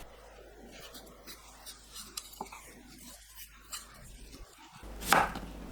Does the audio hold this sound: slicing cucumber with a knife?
yes